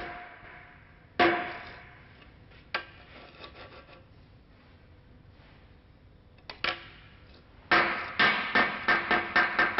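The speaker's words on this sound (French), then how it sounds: "Il assoit l'appui en exerçant de légères vibrations à l'aide d'un morceau de planche et du marteau." A mason uses a hammer on a piece of board to tap a window sill into place, giving isolated knocks at first and then a quick, steady run of light taps near the end.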